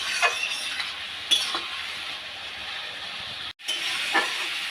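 A spatula scrapes and stirs ash gourd with prawns in a pan, soft rhythmic scraping strokes over a steady moist hiss of cooking, with one brief pause near the end.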